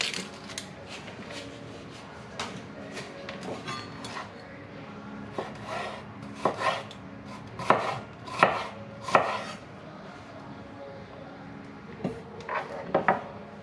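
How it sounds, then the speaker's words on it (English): A knife chops a small piece of onion finely on a cutting board, with irregular sharp taps that cluster into quicker bursts toward the end, close and fairly loud with no talking. "So I will slice up this little cheek of onion."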